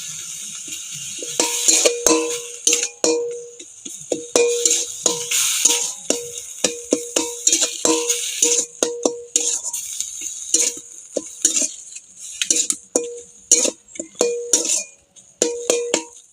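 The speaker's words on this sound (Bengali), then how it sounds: "এই পটলটা এই কড়াইতে দিয়ে দেব দিয়ে খুব সুন্দর করে খুন্তি দিয়ে নেড়ে চেড়ে নেব কিছুক্ষণ" Pointed gourd stirred in a wok with a metal spatula: close, irregular scraping and clinking strokes against the pan, repeated steadily throughout with no voices.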